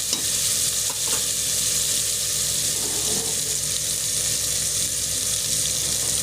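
Tomatoes and green chilies sautéing in a pan for tomato rava kichadi give a steady, close sizzle, with the soft scrape of stirring underneath and no talking.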